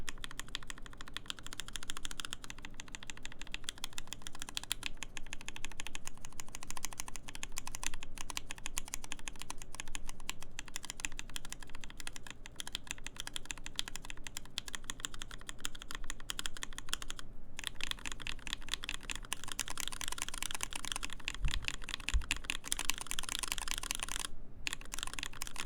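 Steady fast typing on a lubed prototype Satisfaction75 mechanical keyboard, dense overlapping keystrokes running continuously with no talk, close and even in level.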